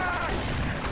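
Hip-fired shots in the video game Fear 3 form a short, loud burst of continuous, close gunfire lasting under a second.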